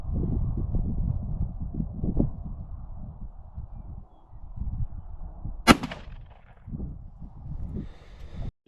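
A shotgun loaded with steel turkey shot fires once at a target, a single sharp loud blast midway, after low rumbling handling noise and before a quiet tail.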